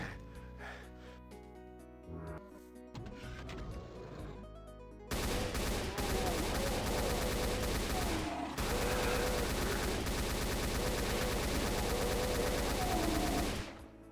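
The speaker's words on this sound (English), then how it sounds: "chain gunning the cybers, why not?" A chaingun firing at Cyberdemons in the video game Doom II, loud sustained rapid gunfire that starts abruptly over game music and chaos and continues for several seconds, with a brief break partway through.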